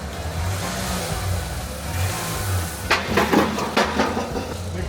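Mazda B2300 pickup truck, revived after sitting for fifteen years, with its engine running steadily and droning low, then rising with several sharper bursts as it pulls away in the last two seconds.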